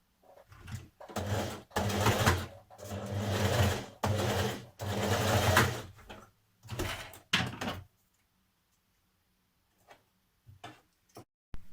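Sewing machine stitching a 1940s vintage-style blouse in several bursts of rapid, close stitching separated by short pauses, then quieter scattered clicks and handling taps near the end.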